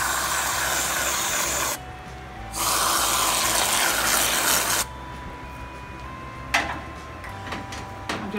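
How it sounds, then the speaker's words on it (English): Strawberry-flavoured whipped cream hisses from an aerosol can in two long sprays, the second ending in a soft sputter, followed by light clicks and handling noise close by. "I'm just going to add some strawberry whipped cream at the top of it."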